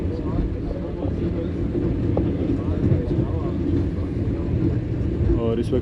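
A passenger train on Pakistan's Green Line, running from Bahawalpur to Lahore, rumbles steadily through a station, a continuous heavy rolling noise, with a voice talking over it.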